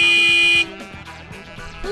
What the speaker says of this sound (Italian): Vediamo, clacson, un clacson di un Mercedes, cilindrata 2120, modello 220V.